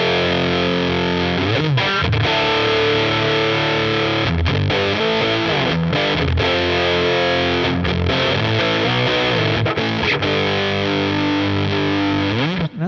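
Heavily fuzzed electric guitar dialed to a classic tone with a Big Muff ahead of a Digitech RP1000, loud chords and riffs played continuously with brief pauses, thick distortion throughout and no talking.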